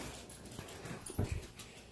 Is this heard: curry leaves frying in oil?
no